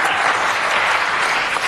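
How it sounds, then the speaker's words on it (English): Brief burst of applause in a city council meeting chamber, loud and steady, with many hands clapping together and no talk over it. "Round of applause."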